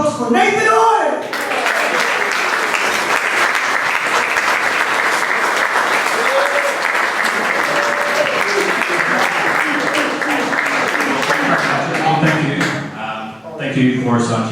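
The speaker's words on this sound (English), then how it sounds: "So a big round of applause for Nathan Oil" A large audience at an annual wrestling lunch celebration bursts into loud, sustained applause with cheering, filling the room for over ten seconds before voices return at the edges.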